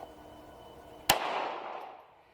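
A single sharp crack from an FN 502 .22lr pistol at a shooting range, loud and close, followed by a short fading reverberant tail over quiet background.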